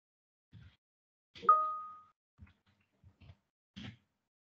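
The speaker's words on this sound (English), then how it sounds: "Why every time this notification is coming, can we get rid of this?" A computer notification chime in an operating systems lecture, a single short bright ding with a brief ringing tail, surrounded by faint scattered soft thumps and quiet pauses.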